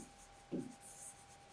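Writing notes during a Class 10 biology lecture on control and coordination: one short, fairly loud scratch of writing near the middle, with no talk.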